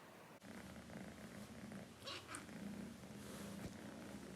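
A cat purrs steadily and close by, a soft continuous low rumble with faint rustling and a few small clicks over it.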